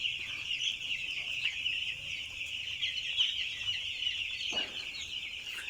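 A shed full of five-day-old broiler chicks, about 2,675 birds, keeps up a dense, continuous high cheeping chorus at moderate loudness, with no voices over it.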